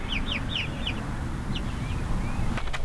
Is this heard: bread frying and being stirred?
no